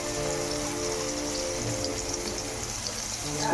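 Mandeli fish sizzling in hot oil, a steady dense crackle and hiss, close and fairly quiet, with no voices.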